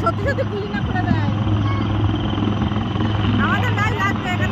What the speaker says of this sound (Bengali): আর একটা হেলি আসছে